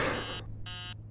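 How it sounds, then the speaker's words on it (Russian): An alarm clock in the video game Emily Wants To Play Too rings in two short electronic bursts separated by a brief gap, high and bright over a low background hum. "Глупый будильник."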